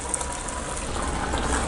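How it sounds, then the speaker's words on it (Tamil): Ground masala paste from a mixer pours into a pot of simmering village-style mutton kuzhambu, giving a steady close gush and bubbling of liquid with no speech over it. "மிக்சியில் அரைச்சி வச்சுருக்கிறத ஊற்றிக்கலாம்."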